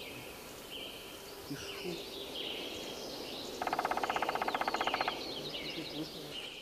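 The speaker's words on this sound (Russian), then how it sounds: "что это действительно лес, что здесь щебечут птицы, там комарики звенят" Forest ambience with small birds chirping and mosquitoes whining, layered softly over a steady outdoor hiss, with a brief rapid pulsing buzz in the middle.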